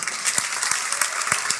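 A church congregation claps together at a sermon, steady massed applause with rhythmic group beats, fairly close and filling the space.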